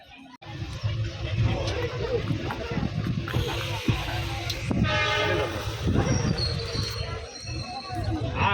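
Trains at Bokajan railway station: steady rumble of rolling rail cars with faint clatter and a horn, while voices talk nearby on the platform.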